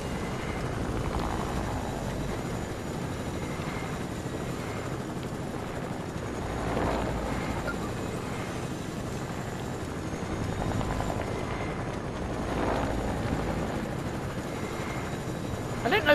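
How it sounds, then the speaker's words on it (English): A helicopter in Fortnite, its steady rotor drone and whir continuous and prominent, with game sounds and a player talking over it throughout. "Now, my chopper's gonna break soon."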